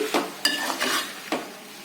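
Potato and meal maker kurma being stirred in a pan for a biryani side, with a spoon scraping in several distinct strokes over a soft sizzle, close and moderately loud with no talking.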